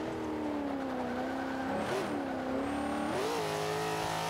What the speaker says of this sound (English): You see, I'm just accelerating past that guy right there.